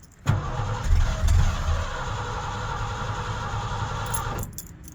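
A 1981 Ford Bronco engine cranks and catches on a cold start, then runs at a steady, loud idle close by for several seconds before cutting off.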